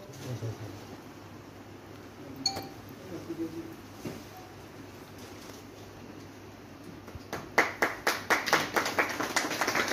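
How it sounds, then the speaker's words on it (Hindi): An audience at an Aurangabad newspaper's seventh anniversary event honoring journalists claps in a quick, rhythmic burst over the last few seconds, loud and close, after a stretch of quiet room noise with scattered clinks. "जोरदार तालियों से इस्तकबाल करें।"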